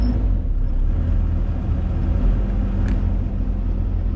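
An excavator engine runs with its throttle raised, producing a loud, steady low rumble that stays even and unbroken throughout, with no voices over it.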